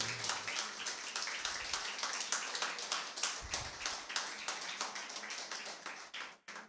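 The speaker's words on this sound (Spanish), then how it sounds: "Dar un aplauso al Señor" Church congregation clapping in praise of the Lord, a lively, uneven patter of many hands with sharp individual claps standing out, fairly close and continuous before tapering off abruptly near the end.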